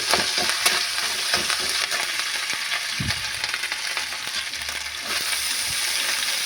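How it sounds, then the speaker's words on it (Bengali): Chopped ginger fries in a pan for a vegetarian Bengali khichuri. A steady, bright sizzle runs throughout, broken by scraping and clinking stirs of a spoon against the pan. No one speaks. "আদাটা একটু ভাজতে হবে ভালো করে।"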